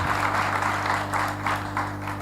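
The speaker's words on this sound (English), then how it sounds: "Clap for them, yeah?" Audience at a women's fintech hackathon applauds steadily and fairly loudly in a room, continuous clapping throughout with a low hum underneath.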